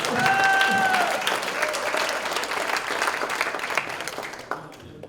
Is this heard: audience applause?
yes